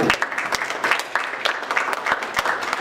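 Audience at a chapter meeting of a professional association breaks into applause, a steady spread of many hands clapping at moderate distance, irregular and continuous throughout.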